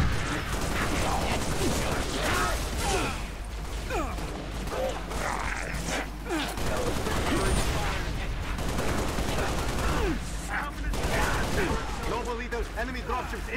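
Halo Reach gunfire crackles in steady bursts throughout a busy battle, mixed with mechanical clatter and in-game radio voices over the shooting.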